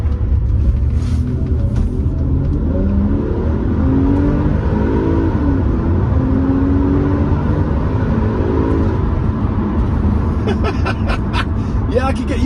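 Old Subaru Outback wagon drives and accelerates in winter, a steady low engine rumble with rising revs filling the whole stretch, up close from inside, with talk over it.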